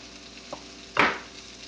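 Moussaka meat mixture frying in a pan as it gets stirred, a soft sizzle throughout with a brief scrape and one louder burst of sizzling and spoon movement partway through.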